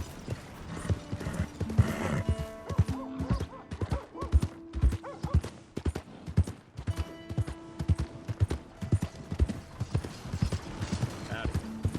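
Horse hooves clip-clop steadily in Red Dead Redemption 2, with a neigh or whinny partway through, all under in-game music and a voice speaking.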